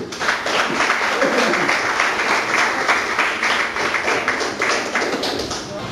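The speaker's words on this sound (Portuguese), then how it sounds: "Palmas para o Senhor Jesus." Church congregation applauding after a sermon cue, a steady wash of many hands clapping together at close range that fills the whole stretch without pause.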